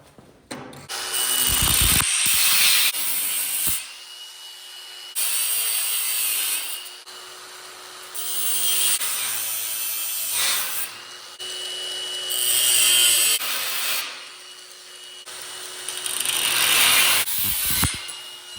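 A power saw cuts through a metal hanger for a jack stand, unclamped: five loud, sustained bursts of harsh, gritty cutting, each several seconds long, separated by brief pauses with a steady tonal hum beneath.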